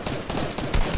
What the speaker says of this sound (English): What the hell is this guy shooting at?